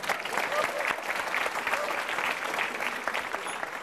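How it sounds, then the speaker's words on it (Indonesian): Studio audience applause for comedian Riko at a televised Indonesian stand-up comedy battle, a sustained, even roar of many hands clapping with faint crowd noise mixed in. "tepuk tangan buat Riko dong boleh"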